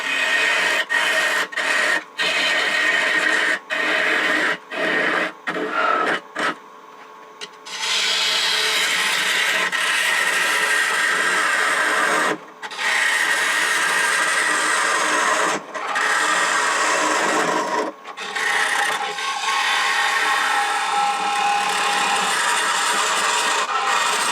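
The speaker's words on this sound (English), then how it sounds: "Now I'll get rid of some of this excess wood going straight in like I did before." A wood lathe tool cuts excess wood from a turning bowl with a steady, loud scraping rasp. It breaks off briefly several times when the tool lifts from the spinning wood, then resumes.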